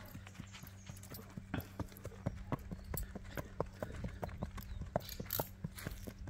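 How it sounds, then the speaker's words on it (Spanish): Hooves clip-clop in a quick, even rhythm as a horse walks briskly nearby, with no talking. "Muy tranqueador el caballo."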